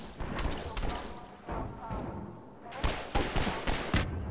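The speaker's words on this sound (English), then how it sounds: "Oh, I'm being shot at." Gunfire in the video game Half-Life 2: a scatter of sharp shots at first, a quieter lull, then a louder cluster of rapid bangs over a constant low game rumble.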